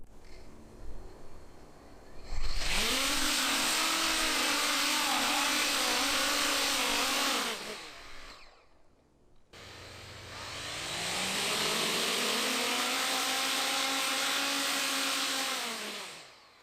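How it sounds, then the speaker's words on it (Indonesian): Coanda effect drone motors with impellers at full throttle: two long bursts of high, whining motor roar, each spinning up sharply, holding steady for several seconds, then winding down, separated by a brief near-silent pause. "Drone ini butuh throttle penuh untuk bisa terbang, jadi saya agak khawatir motornya akan kepanasan."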